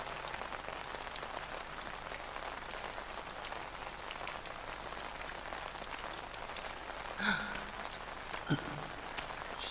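Steady rain pattering on an umbrella in an ASMR roleplay, a dense soft even hiss of drops close by with a couple of faint brief knocks near the end.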